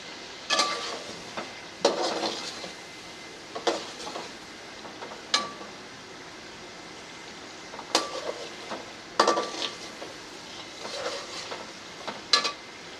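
Finely chopped carrots go into a pan for chicken jalfrezi and are stirred, bringing a steady soft sizzle broken by about ten sharp scrapes and clinks of a spoon against the pan, with no talk.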